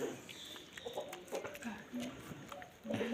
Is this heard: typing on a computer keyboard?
no